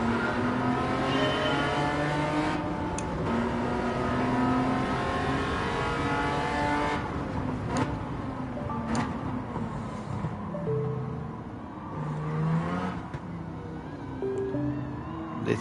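Maserati race car in a racing video game, engine revving and shifting through gears continuously for the whole stretch, loud and close with rising and falling pitch, a few brief tire squeals.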